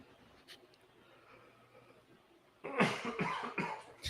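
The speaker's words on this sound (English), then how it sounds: "That's why I have a cough hotkey." After a quiet stretch, a person close by coughs several times in a quick, harsh burst.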